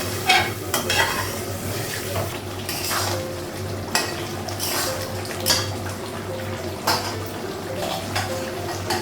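Fish fries in a pan with mustard paste and water, making a loud continuous sizzle broken by repeated spatula scrapes and clinks against the pan, with a low steady hum underneath.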